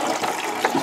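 Water runs steadily from a tap in a photographic darkroom, rinsing sepia-toned prints in a short, close, continuous rushing gush with no talking.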